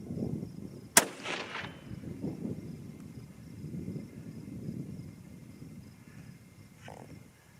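A single sharp rifle shot from a .25-06 Remington loaded with IMR-4350 powder and Nosler/Speer bullets, a loud crack with a short rumbling echo, then quiet outdoor background with insects.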